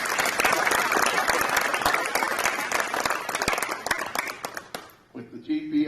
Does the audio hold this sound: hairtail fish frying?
no